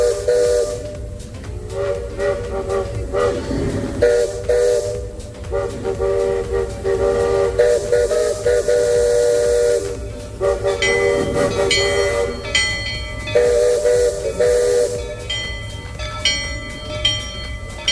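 Steam whistles of the Magic Kingdom riverboat and railroad sound together in a duet at Disney's Magic Kingdom, sustained tonal blasts overlapping and alternating for several seconds amid crowd and park ambience.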